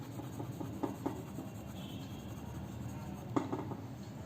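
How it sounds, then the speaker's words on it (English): A B pencil rubs and scratches across paper while shading a sketch, a soft continuous scraping with occasional light taps, close and quiet. "Just take a B pencil and just spread it all over here"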